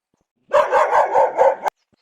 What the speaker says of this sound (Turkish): Köpekçik bana kızdı.